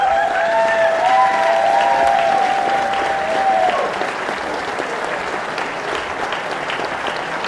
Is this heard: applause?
yes